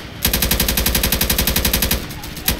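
Rapid automatic gunfire from the video game Left 4 Dead 2 rattles in a fast, evenly spaced burst for nearly two seconds, then breaks off, with a single shot returning at the end.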